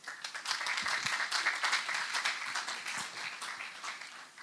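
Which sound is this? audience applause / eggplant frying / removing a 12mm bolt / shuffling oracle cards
audience applause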